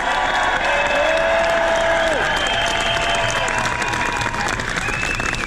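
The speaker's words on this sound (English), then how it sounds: "Give her a big round of applause." A protest crowd in Trafalgar Square, London, applauds Professor Dolores Cahill: loud, dense clapping and some cheering from many people outdoors, with sustained tonal whistles or horns sweeping over the crowd noise.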